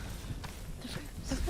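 Horse hooves clip-clopping in Hellblade: Senua's Sacrifice, a few muffled hoofbeats in quick succession over a low, murky background rumble.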